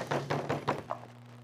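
Several hollow knocks on a door come in a quick, even sequence, close and fairly loud, then stop, leaving a low steady hum.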